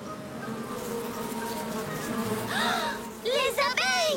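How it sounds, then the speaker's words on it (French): Cartoon bees buzz in a steady insect drone, joined near the end by bright, chirpy voice-like tones; moderately loud and close throughout. "Les abeilles!"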